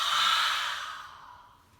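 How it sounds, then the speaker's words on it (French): A deep, breathy exhale through a wide-open mouth during a breathing exercise, a single long airy rush that starts strong and fades gradually over nearly two seconds, close and alone with no talk. "dès que j'ai besoin d'expirer, bouche grande ouverte, je décroise les doigts"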